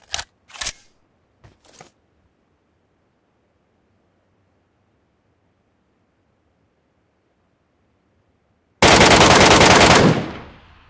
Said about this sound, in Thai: มันยิงกัน